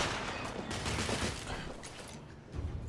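Enemy gunfire in The Order: 1886, a steady dense rattle of shots that barely lets up for about three seconds, with a brief swell near the end.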